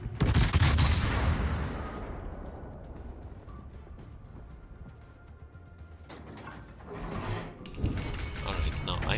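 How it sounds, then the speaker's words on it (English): Heavy naval gun salvos from a cruiser firing at a Montana battleship in World of Warships, a loud booming blast at the start fading into a long rumble, with further crashing shots near the end. "I think I can shoot at this Montana for a bit."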